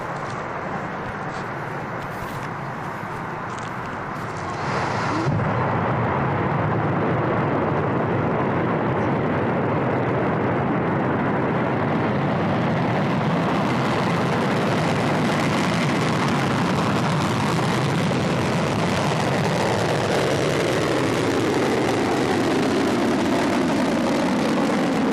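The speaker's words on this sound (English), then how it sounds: "the engines have ignited, and we're just going to let you take a look at this right now" Rocket engines ignite at launch from Baikonur. A broad, roaring rumble swells sharply after a few seconds and then holds loud and continuous with no voices.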